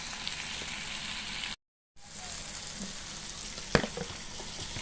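Ackee drops into a pan of frying saltfish, producing a soft, continuous sizzle with a brief break, then a clatter of food and utensil against the pan before the frying resumes.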